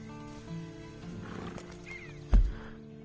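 A horse in a video game whinnies and snorts nearby over a low ambient hum, ending with a sharp, loud burst near the end.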